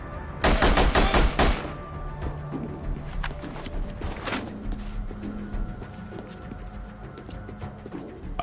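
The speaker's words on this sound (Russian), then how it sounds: "Оставайся здесь, пока стрельба не прекратится." A rapid burst of automatic gunfire up front in The Punisher video game, at a meat packing plant, followed by scattered single shots and thuds fading into the distance.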